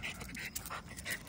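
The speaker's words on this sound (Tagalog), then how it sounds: "na-miss na nga ata ni Ellie makipaglaro nga sa ibang aso" A dog pants in quick, rhythmic breaths while playing with another dog, a French bulldog, close by and fairly soft, with no talking.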